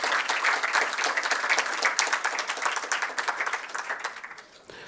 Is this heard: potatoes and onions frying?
no